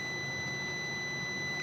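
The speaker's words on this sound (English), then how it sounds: "The obvious beep tells me that we have continuity." A multimeter continuity tester gives one steady, unbroken electronic beep, loud and alone, while checking continuity through a part.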